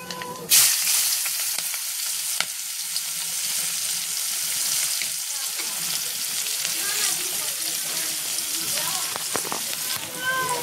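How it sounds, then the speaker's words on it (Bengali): Chopped onion and green chilli hit hot oil seasoned with black cumin seeds, setting off a sudden burst of sizzling that settles into a steady, close frying hiss with occasional crackles. "এবার দেব পেঁয়াজ আর কাঁচা লঙ্কার কুচিটা"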